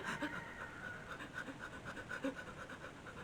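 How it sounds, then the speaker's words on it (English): Fast, rhythmic breaths are forced in and out during a fire-breath breathwork demonstration, a close, soft panting repeated evenly with no words spoken. "And you want to breathe like that, like you're hyperventilating."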